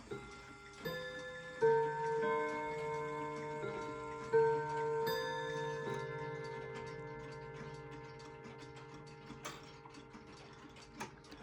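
A 1950s Seth Thomas Simsbury 2W Westminster chime mantel clock with a 124 movement rings a slow sequence of clear chime notes that ring on and decay, over a soft, steady mechanical ticking, close and quiet with no voices.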